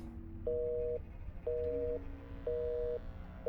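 Telephone busy signal in the video game Black Mirror II: Reigning Evil, three evenly spaced repeating tones over a low background hum, no talking.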